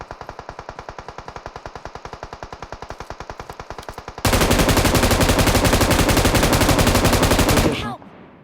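Video game gunfire rattles off as rapid, evenly spaced automatic shots, then swells into a denser, louder sustained burst before cutting off abruptly.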